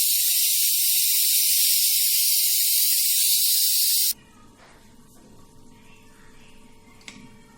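A pressure cooker cooking black chickpeas lets out a loud, steady hiss of escaping steam for about four seconds, which then cuts off abruptly, leaving a faint low bubbling and kitchen background.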